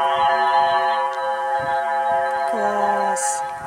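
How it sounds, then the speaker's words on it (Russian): A recorded sound of the planet Venus plays as a sustained, layered electronic drone with a steady tone. A pitch shift comes late, followed by a short hissy burst near the end. "хотите послушать звук Венеры?"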